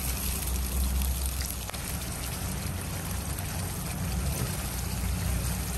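A continuous, even pour of chili paste from a jug, a steady wet rushing close by with no break and no voices.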